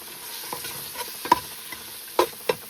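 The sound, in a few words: adding masala to frying chicken in pan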